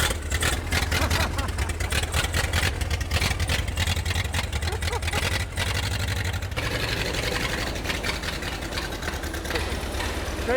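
A Ford Model A engine, found in the woods and started after decades unused, runs steadily after start-up with a loud, rough low chugging idle throughout, and voices talk faintly over it.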